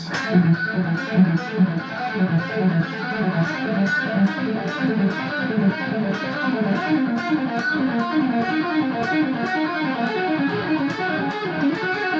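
A fast electric guitar lick played at full speed, a steady stream of rapid picked notes with a lightly distorted tone, continuous for about twelve seconds.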